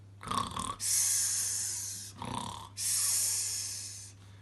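A voice imitates snoring: two rounds of a rough, snorting inhale followed by a long, airy whistling exhale, close and fairly soft.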